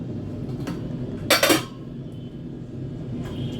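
A serving spoon scrapes and clinks against a handi while Mughlai chicken malai curry is dished out, making one brief, close burst of metallic clatter over quiet room background.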